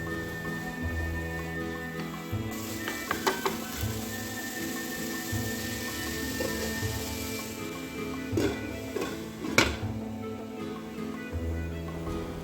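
Chopped onions sizzle in a hot pan for an egg bhurji, with a steady frying hiss, a few scrapes and knocks of a spoon against the pan as they are stirred, and a sharper clatter near the end.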